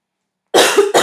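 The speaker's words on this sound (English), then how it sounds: "excuse my coughing, please" A single sharp cough, close and loud, breaking out after a moment of silence with a quick second burst.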